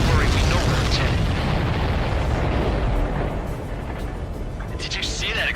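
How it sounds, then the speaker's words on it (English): Heavy rumbling explosion noise from aerial combat in Ace Combat 7, a sustained roar with a voice talking over it. "Did you see that explosion?"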